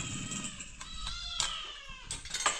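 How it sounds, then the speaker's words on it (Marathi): Several cats meow noisily in a house, a string of loud overlapping meows and wails at close range, coming in bursts with short gaps between. "आणि मांजरांचा कालवा चालू झाला."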